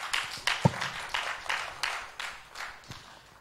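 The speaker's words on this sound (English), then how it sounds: "Please, a round of applause for our speakers." Sparse applause from a church audience after speakers finish, with scattered individual claps at an uneven rhythm, faint and somewhat distant in the room.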